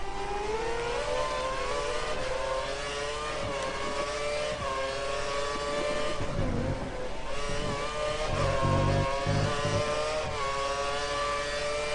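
Formula racing cars in a video game on the China circuit, engines whining loudly and continuously with rising and falling revs as cars run close together, no talking.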